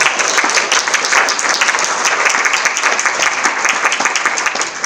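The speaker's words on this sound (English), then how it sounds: "So let's give her a round of applause." An audience at a university lecture series on feminism gives sustained, dense applause that stays loud and even from start to finish.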